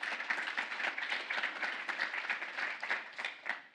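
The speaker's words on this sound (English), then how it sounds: "Round of applause for this panel." Audience applause for a panel at a fintech conference in Washington, DC: a dense, steady burst of many hands clapping for several seconds, moderately loud and even throughout.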